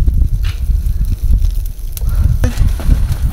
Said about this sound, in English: now that you hear the crackling of the grill, it's time